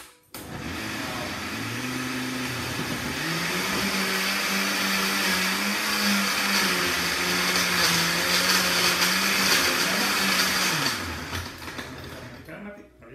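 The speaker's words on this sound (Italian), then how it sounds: "Adesso dobbiamo frullarlo tutto insieme." A kitchen blender whirs steadily for about eleven seconds while blending basil pesto, a loud droning motor with a shifting pitch that spins down at the end.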